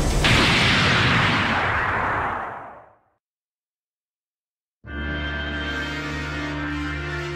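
A huge Nebula attack explosion in the Saint Seiya Soldiers' Soul game, a loud roaring blast that fades out over three seconds into silence, then a sustained resonant tonal effect.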